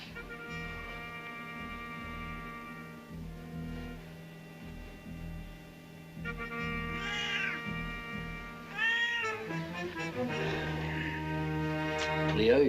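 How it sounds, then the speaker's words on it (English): Leo, a fat old cat, meows several times with drawn-out, rising and falling cries that grow louder toward the end, heard up close with dialogue-scene background ambience. "you're a silly old fat cat"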